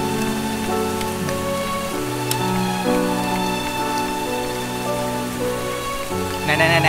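Steady rain falls throughout in a dramatic Vietnamese film scene, a dense hiss of drops mixed with a low musical score and sustained tonal layers, with a brighter burst of splashing near the end.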